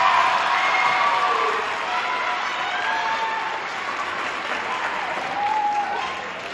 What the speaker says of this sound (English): Give them a round of applause, guys.